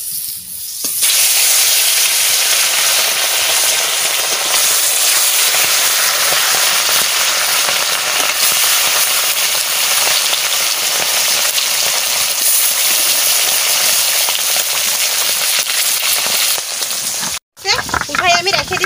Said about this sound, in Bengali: কড়াই গরম হয়ে গেছে, আমি এখন মাছ দিয়ে দেব।